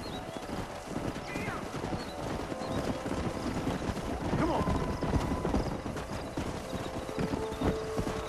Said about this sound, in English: So again, we're herding horses this time rather than cattle.